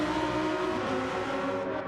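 A GT race car engine in a racing video game runs at a steady, loud drone for the whole stretch, with sustained harmonic tones, and no one talks over it.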